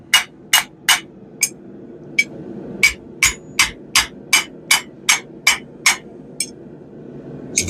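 A hammer strikes metal while a squirrel cooker is forged, ringing blows in a quick, fairly regular series of about fifteen sharp hits over a low background hum.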